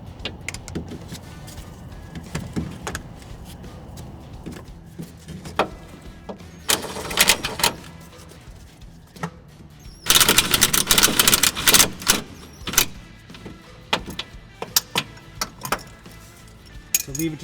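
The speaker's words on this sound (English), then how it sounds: "I'm just going to zip it in with my impact gun" An impact gun drives in a starter bolt on a Honda Civic, giving rapid rattling hammering bursts, with a long loud burst near the middle and shorter ones around it, against faint workshop clinks.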